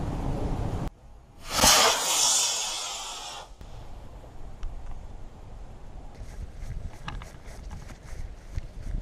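A model rocket on a small B engine launches outdoors with a sudden loud whooshing roar that fades over about two seconds, leaving quiet wind noise and faint clicks.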